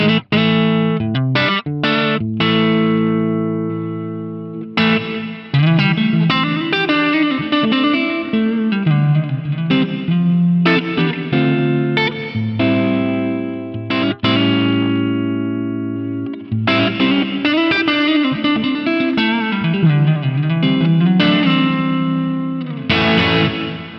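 Loud electric guitar chords played through heavy distortion and a FAS-FX reverb plugin feeding a Fractal hardware unit, notes ringing out and tailing off between strums, with no voices.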